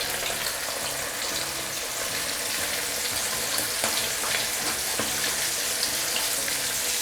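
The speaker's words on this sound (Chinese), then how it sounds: "开始炸这个带鱼，这样小火给它吊着哈" Hairtail fish pieces coated in crispy frying batter deep-frying in oil at moderate heat over a low flame, giving a steady, dense sizzle with occasional small pops throughout.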